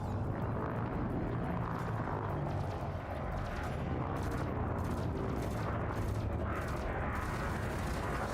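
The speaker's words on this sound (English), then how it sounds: "My rapid fire multi-cannon is out of ammo." A rapid-fire multi-cannon firing in the space game Elite Dangerous, producing a loud, unbroken roar of dense, fast shots that blur into a steady, booming stream throughout.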